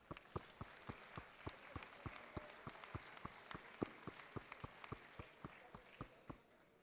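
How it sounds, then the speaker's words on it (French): An audience applauds at the opening ceremony of the 24 Heures de Saint-Jo 2024 event, giving steady rhythmic clapping with sharp, evenly spaced claps at moderate distance for several seconds. "Je vous demande aussi pour leur dire merci de les applaudir."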